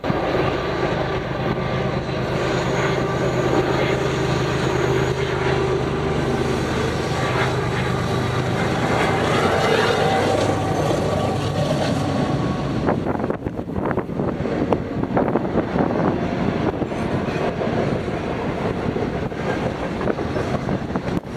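An IO&P freight train led by UP 5373 rumbles past nearby, a long continuous roar with clattering wheels, mixed with gusty wind buffeting the microphone.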